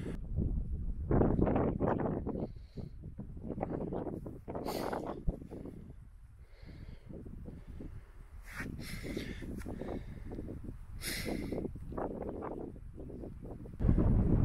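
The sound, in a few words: wind blowing over moorland and microphone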